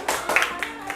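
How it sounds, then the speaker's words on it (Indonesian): Schoolchildren in a fourth-grade classroom give a short, scattered burst of hand clapping for a group, a few claps over a second mixed with voices. "tepuk tangan buat kelompok 3."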